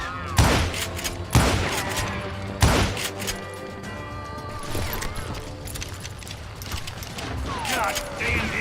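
Gunfire in the Call of Juarez: Gunslinger video game, several sharp close shots cracking out in quick succession early on, then scattered metallic ricochets and action clatter, with shouting voices over the noise.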